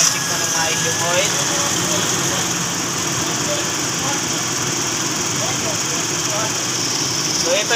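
A Toyota Revo with a 7K engine idles at an oil-change service center, giving a loud, steady mechanical hum with a light rattling texture that runs unbroken from start to finish.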